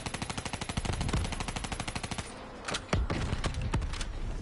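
Rapid automatic gunfire from the video game Call of Duty Black Ops 3 hammers out in a steady, close stream. Later the rhythm breaks into a few heavier, separated shots.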